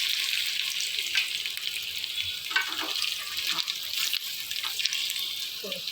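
Chillies, black cumin, cloves and ginger slices frying in hot oil, giving a steady close hiss with occasional stirring scrapes; no voices.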